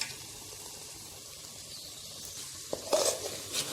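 Cooked mutton tipped into masala in a pan, a soft steady sizzle with a few stirring clatters near the end.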